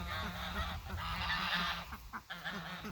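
Farm ducks honking and calling in a busy cluster, fairly near and loud, with repeated overlapping calls and scuffling, briefly dipping before resuming.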